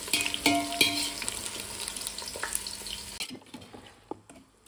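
Marinated chicken frying in a pan for biryani, a busy steady sizzle with stirring scrapes and occasional utensil knocks, close by, dropping off sharply toward the end to a quieter hiss with a few taps.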